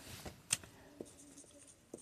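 A marker or chalk is writing on a board during a maths class, making faint scratchy strokes with a few light taps spread across two seconds in a quiet room.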